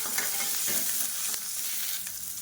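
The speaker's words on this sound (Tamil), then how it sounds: "இப்போ பாருங்கள் எல்லாமே பொரிய ஆரம்பிக்குது." Garlic, ginger and small onions spluttering in hot oil in a Tamil kitchen, a loud dense crackling sizzle that runs continuously throughout, close up with no voices.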